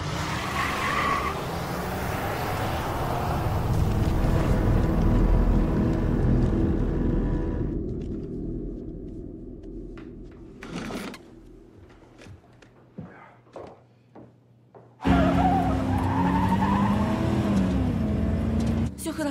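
A car pulls away and skids amid a tense escape. A loud, dense roar of engine and tyre noise fills the first half, followed by quieter scattered knocks and thumps, and then a sudden loud burst of road noise near the end.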